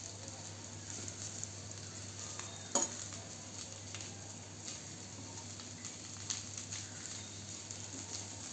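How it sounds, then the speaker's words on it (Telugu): Chili leaves being fried in a pan for pachadi, a faint steady sizzle with light scraping stir strokes and one brief sharper clack, heard up close. "పచ్చివాసన పోయేంత వరకు మనం వేయించేసుకోవాలి."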